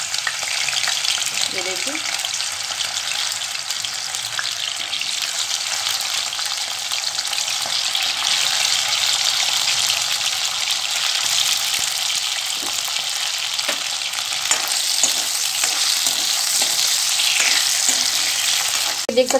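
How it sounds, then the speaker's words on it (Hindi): Potatoes and cauliflower frying in hot oil in a kadai, giving a loud, steady sizzle throughout with occasional stirring clinks and a brief spoken remark. "तेल को अच्छे से गर्म होने देंगे और उसके बाद इसमें हम फ्राई करेंगे आलू गोभी।"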